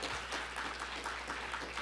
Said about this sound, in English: So please give them a nice round of applause.